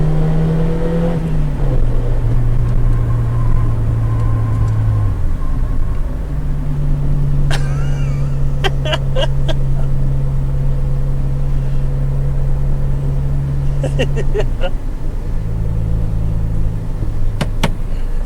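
A Honda Civic EF hatchback runs close by with a steady engine drone, its revs stepping up and down several times, with short sharp squeals of spinning tires in the middle and near the end.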